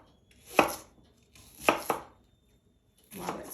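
A knife slicing a yellow onion on a cutting board for a teriyaki chicken dish, with three close, distinct cutting bursts separated by short pauses.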